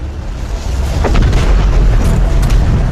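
An asteroid impact explosion sound effect: a loud, sustained deep rumbling roar with a few muffled booms rising through it.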